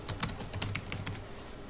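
Quick bursts of keystrokes on a computer keyboard, about a dozen light clicks in fast irregular succession, close and clear with no talk, then trailing off.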